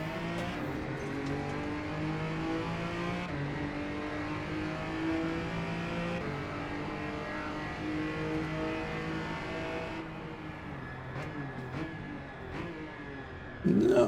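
Cayman GT4 race car (Guerilla Mods) at Lake Torrent in a racing video game, its engine droning and revving steadily throughout with shifting pitch, easing off near the end before a brief loud burst.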